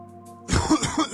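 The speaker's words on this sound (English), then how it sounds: "Here is what coughing sounds like." A synthetic Plotagon character voice coughs, a few harsh, throaty bursts following a short held tone, close and clear with no talking.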